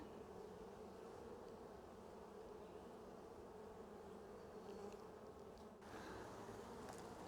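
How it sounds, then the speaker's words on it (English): A dense swarm of honeybees hums steadily on a packed hive frame, a close, continuous buzz that stays even throughout without pause. "Packed with bees"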